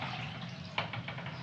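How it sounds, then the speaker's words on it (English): White wine and water poured into a cooking pot to start a stock, a steady close liquid pour with a few splashy bursts toward the end. "So to that we will add a little white wine and some water, and we'll get this started"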